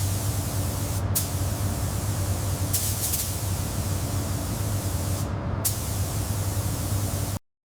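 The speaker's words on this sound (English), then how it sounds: "This is the moment we apply the first coat of factory original maroon." A spray gun lays factory maroon paint onto a 1985 Rolls-Royce Silver Spur in a steady, loud hissing stream, with a low hum beneath and a few brief gaps before it cuts off.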